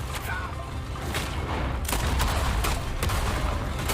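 Gunfire crackles in Red Dead Redemption 2 amid a chase, scattered sharp shots over a constant rumbling background, some near and some farther off.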